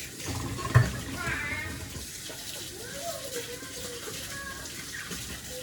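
Hot tap water runs into a kitchen sink during dishwashing, a quiet, steady stream with a brief clink near the start, while a voice talks softly in the background.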